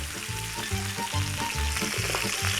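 Chicken fajita pieces and vegetables cook in oil inside a toaster grill, producing a dense, close sizzle with a rhythmic pattern of soft knocks and stirring sounds.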